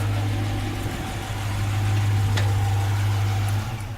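A muscle car engine idles with a steady, deep low rumble and a slight throb, close and loud, with no voices, until the drone eases off near the end.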